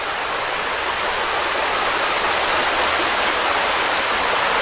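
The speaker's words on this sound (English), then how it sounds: "I believe this is the Darby Creek." Darby Creek near Philadelphia flows steadily, a dense, continuous wash of rushing water that stays loud and even throughout with no voices.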